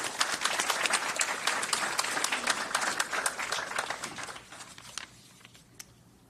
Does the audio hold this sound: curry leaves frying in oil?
no